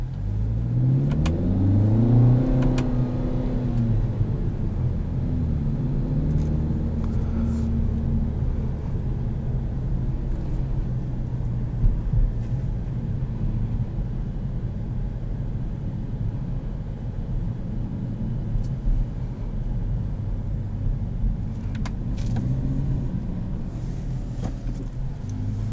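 A 2021 Kia Forte GT with a dual-clutch transmission pulls away from a stoplight, its engine rising through the gears in sweeping upward pitch runs over a steady, loud road rumble that lasts throughout.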